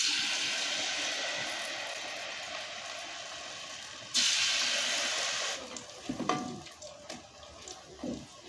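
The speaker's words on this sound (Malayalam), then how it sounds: "വറുത്തുകോരി മാറ്റി വെച്ച ബനാന പീസുകൾ ഓരോന്നായി നന്നായി ഇതിൽ മുക്കിയ ശേഷം ചൂടായ എണ്ണയിലേക്ക് ഇട്ട് കൊടുക്കുക." Batter-dipped banana pieces drop into hot oil, turning a steady frying hiss into a sudden louder surge of sizzling that settles into scattered crackles and pops.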